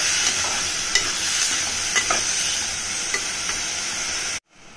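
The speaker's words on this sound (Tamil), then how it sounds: "நல்லா கிண்டி விடுங்க. நல்லா கிண்டி விடணும்." Coriander rice ingredients being stirred and fried in a pan, with a steady sizzle and occasional spoon scrapes close by, continuing alone without talk until it cuts off abruptly near the end.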